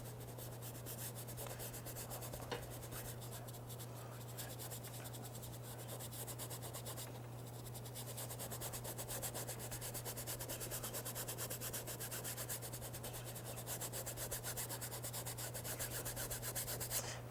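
A paintbrush scrubs snow-white acrylic paint onto canvas in a steady, faint, continuous rubbing, with a low electrical hum beneath it.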